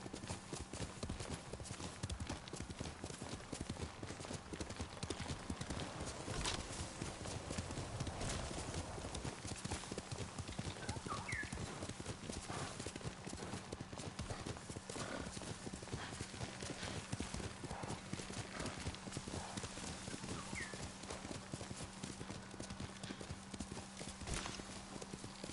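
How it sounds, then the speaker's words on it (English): Horse hooves clip-clopping at a steady riding pace on horseback, continuous and fairly close, with a constant low hum beneath and an occasional faint whinny. "let's go back on horseback"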